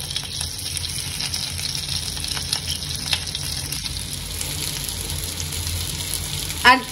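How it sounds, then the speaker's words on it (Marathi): Stuffed bitter gourds fry on a flat griddle over medium-low gas, a low continuous sizzle with faint crackles running throughout, and a short scrape or clatter near the end. "आता ह्याला खालच्या बाजूनी देखील मी चांगलं फ्राय करून घेते।"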